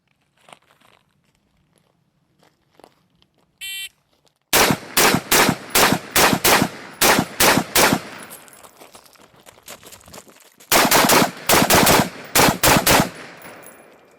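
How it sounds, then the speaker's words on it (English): Rifle fire from an AR-type rifle with a Geissele URGI upper, shot at three targets on an outdoor range: a quick string of about nine sharp, loud shots, a short pause, then a second rapid string of about six more. "here we are at 3 targets, 3 shots each from the 15. Run up to the 7, do it again. This time URGI."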